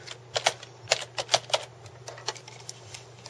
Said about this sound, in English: let's type in something for the second line.